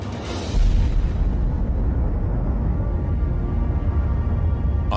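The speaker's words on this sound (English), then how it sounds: "in the Pacific, another test. America's first practical H-bomb." Deep, sustained explosive rumble from a Pacific test of America's first practical hydrogen bomb, a thermonuclear device fired March 1, 1954; a rolling low roar swells after a brief onset and holds loud and steady with no voices.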